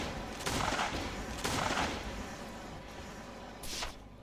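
Gunfire in the survival video game Last Day On Earth Survival comes as three loud, booming shots spaced about a second or more apart, each with a short decaying tail, and no speech.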